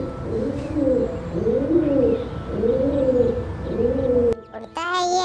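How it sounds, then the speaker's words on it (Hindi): A pigeon coos in a repeated rhythmic pattern, four soft rolling calls close by, followed by a brief break and a short burst of other sound. "पिजन, बच्चों नाम है इसका कबूतर"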